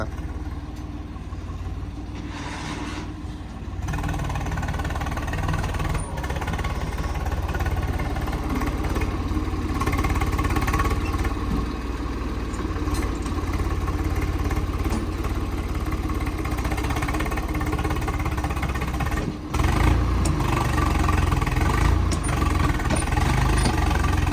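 A farm tractor, the driver weighing a switch to a Holland, runs steadily in a field while setting soil with a leveling blade. A loud, close, continuous diesel drone with a low throb holds throughout, with a brief dip near the end.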